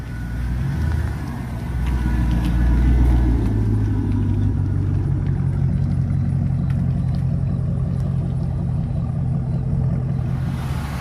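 Camaro SS fitted with a supercharged Corvette Z06 LT4 engine running, a loud, steady low rumble close by that swells slightly early on, with no talk.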